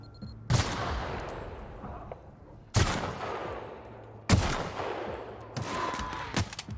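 Several sharp pistol shots ring out in the sci-fi video game The Outer Worlds, four distinct cracks spaced irregularly a second or two apart, each with a long decaying tail over a low steady hum.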